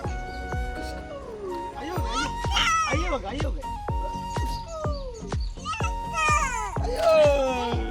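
A small child imitates a cat's meow with repeated rising and falling cries, while adults talk and prompt in the background.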